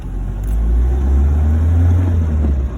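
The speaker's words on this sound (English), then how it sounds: "car really mechanically is driving well" A 1966 Citroen DS21 Chapron convertible cruises along, its engine giving a steady, loud low rumble with a slight swell in revs and road noise throughout, no voices.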